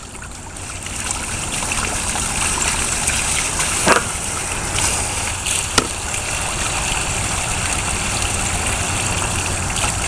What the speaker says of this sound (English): let me rinse my hands off